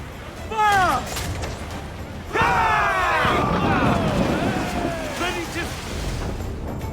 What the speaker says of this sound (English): Fire mortars, Captain! Fire!